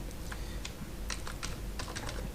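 Quiet, close typing on a computer keyboard, with scattered individual key clicks and short quick runs of keystrokes over a low background hum.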